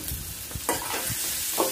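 Whole spices sizzle in hot oil for beef liver curry: bay leaves, cinnamon, green and black cardamom and cloves crackle steadily, with a few sharp scrapes of stirring.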